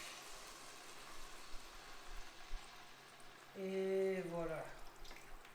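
Liquid poured into a pan of cooking rice for an asparagus and pancetta risotto, a soft hiss and bubbling under quiet room sound, followed by a brief pouring burst near the end while a person speaks.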